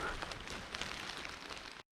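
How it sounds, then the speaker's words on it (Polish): Heavy rain falls on Gubałówka hill above Zakopane, a dense, steady patter and wash with faint scattered drops, continuous until it cuts off abruptly. "Deszcz mocno pada."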